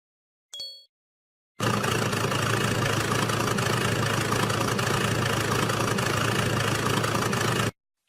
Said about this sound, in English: Where is the truck?